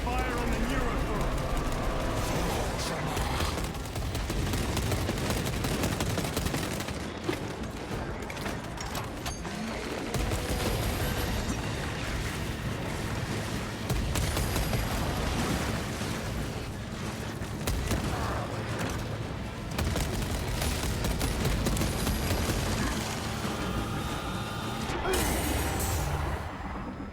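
Sustained heavy gunfire pours onto a Neurothrope in Warhammer 40,000: Space Marine 2, a dense continuous roar of shots and impacts with combat noise, while voices talk over the fighting throughout.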